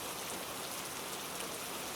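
Gentle rain falls steadily on the grey asphalt of an empty convenience store parking lot at night, a soft, even patter with no other sounds.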